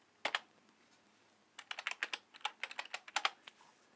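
Someone types a terminal command on a computer keyboard: one quick pair of keystrokes, a pause, then a fast run of sharp, close clicks and taps at a soft overall level.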